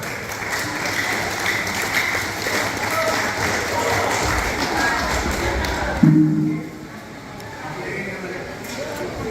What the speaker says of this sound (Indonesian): Berikan tepuk tangan Gubernur